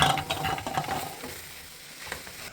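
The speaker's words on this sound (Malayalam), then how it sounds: "ഇത് നമുക്കൊന്ന് ചെറുതായിട്ടൊന്ന് ഇളക്കി കൊടുക്കാം" Jackfruit cooking in a pot is gently stirred, giving a soft continuous scraping and bubbling sizzle near at hand, strongest at the start and fading toward the end.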